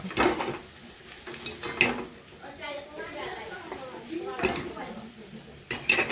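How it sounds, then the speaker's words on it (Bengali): Pumpkin flower fritters are lifted from hot frying oil with a metal utensil, clinking and scraping against the pan in scattered taps, under a quiet sizzle, while someone talks. "এখন আমি বড়াগুলো তুলে নেব, তেল ঝরিয়ে তুলে নেব"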